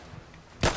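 A single sharp gunshot fired in the Fallout London video game, a short loud crack arriving abruptly after a quiet background of game ambience.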